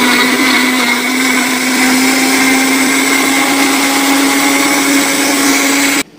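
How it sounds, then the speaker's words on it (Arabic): A kitchen blender chops and purées cucumber for a homemade drink, its motor whirring loudly and steadily with a constant high whine for about six seconds before cutting off abruptly. "نبدأ بقى نفرمه في الخلاط"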